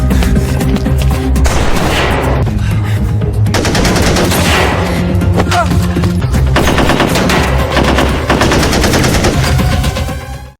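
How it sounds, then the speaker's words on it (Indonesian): A movie gunfight between a police captain and a gunman at a container yard, with dense, loud bursts of automatic gunfire and booming shots filling the whole span almost without pause. "Terjadi adu tembak antara Kapten Wu dengan Bin"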